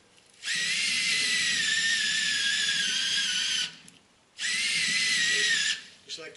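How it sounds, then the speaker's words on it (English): A cordless drill with a weakening battery runs in two long, steady, high-pitched whining bursts near an aircraft bungee install tool on a Piper Pacer. A short pause separates the bursts. "Looks like the battery's running down in the drill."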